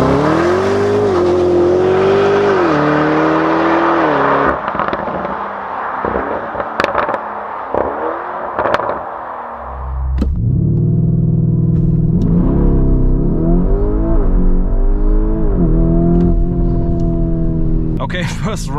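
A 666 hp Lamborghini Urus Performante launching from a standstill on a cold surface, with wheel spin: a loud engine roar climbs steadily through the gears, then drops away and returns in a second surge of rising revs, close and unbroken.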